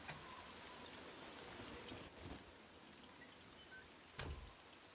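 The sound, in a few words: rain falling in the video game SCUM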